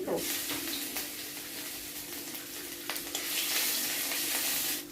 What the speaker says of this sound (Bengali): চলো তেলের মধ্যে কয়টা তেজপাতা দিয়ে দিই, একটু আদা বাটা দিতেছি।